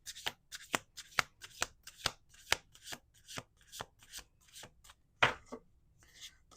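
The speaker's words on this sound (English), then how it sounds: "Last shuffle." A deck of cards is shuffled close up: a quick run of crisp riffling flicks and slaps, about fifteen sharp bursts in steady rhythm, with no voices.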